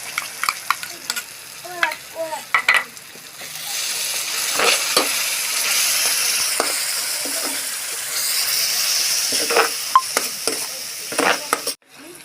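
Yogurt masala paste for dhaba-style Amritsari paneer bhurji sizzles steadily in a pan over low heat. Sharp spoon scrapes and clacks punctuate the frying, especially at the start and near the end.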